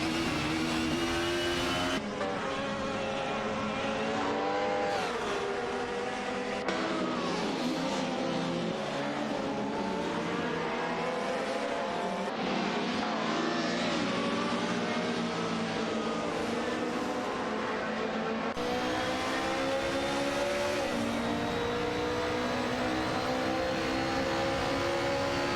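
A BMW M3 GTR and an Alfa Romeo 155 V6 TI race in a video game. Their engines rev loudly and continuously, rising and falling through gear changes with high-pitched tones. Nobody talks over the engines.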